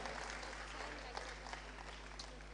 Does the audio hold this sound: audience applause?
yes